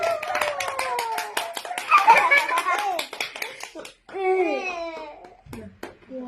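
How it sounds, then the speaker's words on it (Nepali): A voice babbles and laughs while hands clap in quick bursts, sharp claps ringing out over the chatter. "क्ल्याप गर्दै छोरी, क्ल्याप गर्दै, क्ल्याप क्ल्याप"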